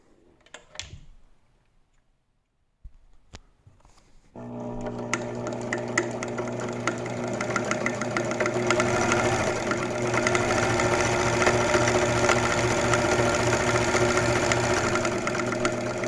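An Elna T SP 72C sewing machine starts up after a few quiet clicks and runs a stitch pattern, a loud, steady mechanical whirr and rapid needle chatter that holds without pause.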